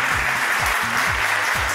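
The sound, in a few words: TV show audience applauding a contestant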